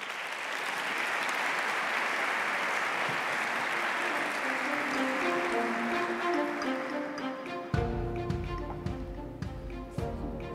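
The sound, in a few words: applause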